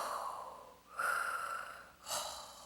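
A yoga teacher imitates Darth Vader's breathing: two drawn-out, raspy, hissing breaths, close and clear, with no other sound around them.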